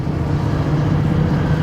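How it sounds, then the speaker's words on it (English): Steady low diesel drone of a 2023 RAM 3500 dually Cummins truck with its exhaust brake engaged while descending a hill at around 2,250 RPM, a continuous loud rumble filling the short stretch with no talking. "Exhaust brake, so strong."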